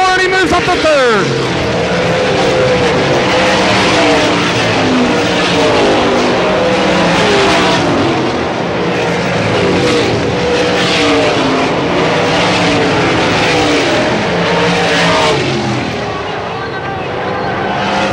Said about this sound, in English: Joey Kuhn going for all the marbles in turn four, and he moves up to third